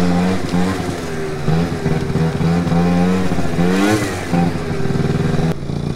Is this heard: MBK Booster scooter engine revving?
yes